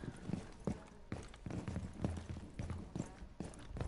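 Repeated footsteps thud at a steady walking rhythm in a tactical shooter match with Thermite, heavy and close, each step a dull low impact over faint background noise.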